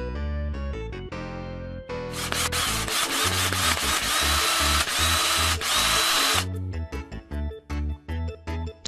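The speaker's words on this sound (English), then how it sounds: "Drill machine." An electric drill whirs loudly for several seconds, with short bursts before and after, mixed with scraping and grinding against wood.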